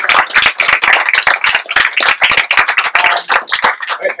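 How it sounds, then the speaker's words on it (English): An audience at a real estate event applauds, a dense, loud burst of many hands clapping together without a break, close and with no talking. "I would like to give a big round of applause"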